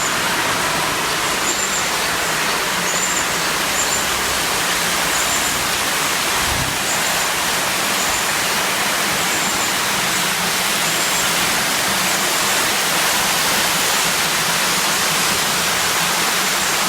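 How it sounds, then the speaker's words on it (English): A small waterfall on a stream in the Thai village of Mae Kampong gives off a constant, loud, broadband rush of falling water, steady throughout with no voices. "A little waterfall here."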